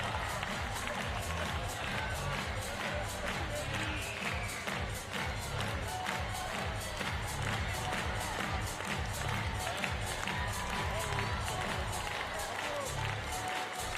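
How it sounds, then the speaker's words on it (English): A large crowd at a wheelchair tennis match applauds and cheers in a steady, sustained wash of clapping, with a voice talking over it. "Thunderous applause all around"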